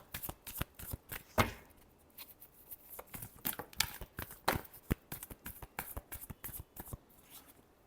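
Tarot cards are shuffled by hand in quick, irregular riffles and flicks, close and crisp, in repeated bursts with short pauses between them. No voice is heard.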